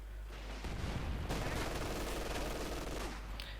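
Dense battle gunfire in Company of Heroes 2, with British infantry Bren light machine guns and mortars: sustained overlapping bursts and rattling fire that thickens after the first second, loud and continuous, with a low rumble underneath.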